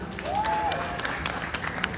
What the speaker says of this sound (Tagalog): maaari po ba akong malimos ng palakpakan at hiyawan?